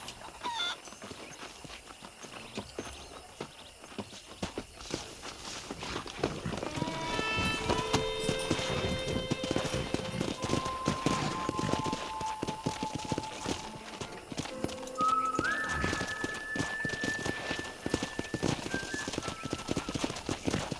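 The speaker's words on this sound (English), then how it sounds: "Let's see if we can't wrangle some horses." Horse hooves clip-clop steadily in the Western video game Red Dead Redemption, a close, continuous trotting rhythm with occasional whinnies over a soft musical score.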